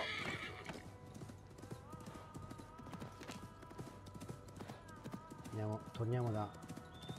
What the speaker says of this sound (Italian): Prendiamo il cavallo.